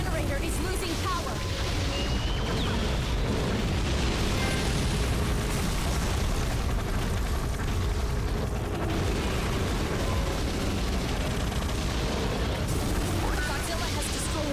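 Explosions in a Godzilla video game as Godzilla destroys the generators. Dense, sustained rumbling blasts and bursts go on without a break, with game voices talking over them.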